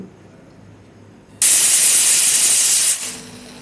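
A pressure cooker boiling potatoes suddenly vents steam in a loud, sharp, steady hiss that lasts about a second and a half, then drops back to a quieter background hum, with no voices.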